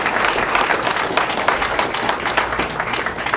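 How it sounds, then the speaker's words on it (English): A full room gives sustained applause at an evening gathering, dense and loud throughout with continuous overlapping claps and a low crowd murmur underneath. "let's give another round of applause to Jon Ponder for all of his work."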